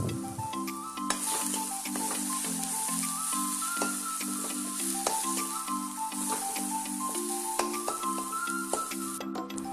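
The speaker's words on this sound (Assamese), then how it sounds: "পিঁয়াজৰ লগতে অলপমান ভাজি ল'ম মই আলুকণো" Potatoes frying with onions in a pan for a fish curry with curry leaves, giving a continuous close sizzle and hiss alongside repeated rhythmic stirring scrapes throughout, with no talking.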